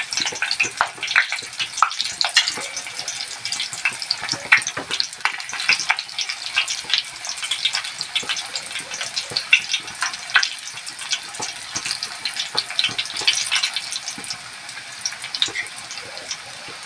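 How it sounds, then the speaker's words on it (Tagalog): Cordon bleu sticks frying in cooking oil over low heat: a steady, dense crackling sizzle with constant fine pops and spatters, continuous and close for the whole stretch, with no talking. "I-fry natin sa mantika. Low heat."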